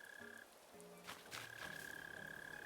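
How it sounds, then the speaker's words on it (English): A mole cricket in the Animal Crossing New Horizons video game, a low buzzing, croaking trill from underground, repeating steadily and quietly amid soft game ambience. "So the mole crickets, you'll be able to hear them under the ground"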